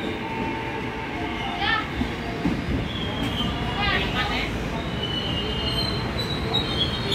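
A KRL commuter train on the Jakarta–Bogor line squeals as its wheels grind through curves, with high metallic shrieks rising twice over a steady rolling rumble inside the carriage.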